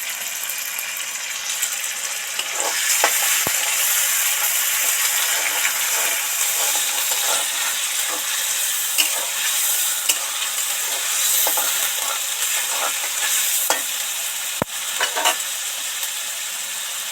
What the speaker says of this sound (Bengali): এবার এর মধ্যে আদার পেস্টটা দিয়ে দেবো